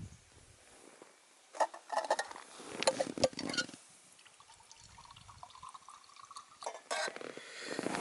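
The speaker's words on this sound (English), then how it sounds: "we will pour a glass" Tullamore Dew whiskey poured into a glass outdoors at a wild camp, a few quiet splashing gurgles in short bursts, faint and close, with some handling clatter between pours.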